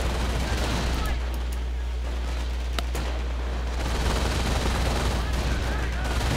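Gunfire in a multiplayer shooter video game, sharp isolated cracks from a sniper rifle cutting through a constant low rumble of battlefield noise, loud and dense throughout.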